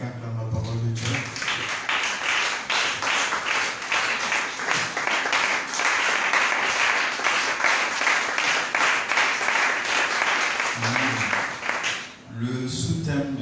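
A church congregation at an evening service applauds in a dense, sustained burst of clapping lasting around ten seconds, framed by brief voices and sound before and after.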